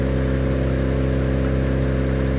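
A Viking aircraft engine runs steadily on a ground run after installation, a continuous close, loud mechanical drone with an even pitch and constant level throughout, with no voices.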